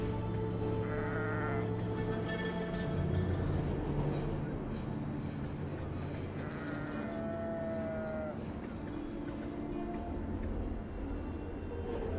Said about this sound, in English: This wild sheep appears interested in nothing more than the grasses that grow upon this beach.